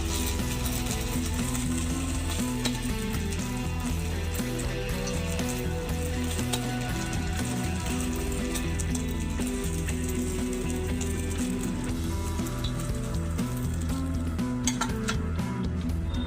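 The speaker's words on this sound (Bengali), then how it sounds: "এইভাবে আমি সব পনির ভেজে নেব।" Homemade paneer pieces frying in a pan of oil, a steady close sizzle running throughout with occasional clinks of a utensil against the pan.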